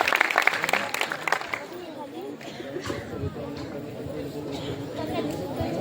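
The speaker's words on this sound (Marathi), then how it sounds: "एकदा जोरदार टाळ्या होत्या आपल्या सगळ्या टीमसाठी." Audience at an orchestra event applauding for the team, a short burst of loud clapping that fades within about two seconds into crowd murmur while a voice speaks.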